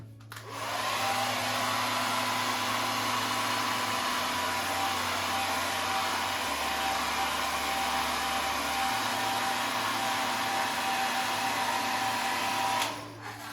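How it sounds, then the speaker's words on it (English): A hair dryer blows with a steady, loud whooshing hum, its motor pitch stepping down and back up, then cutting off. "Get the hair drying out, so apologies for the noise."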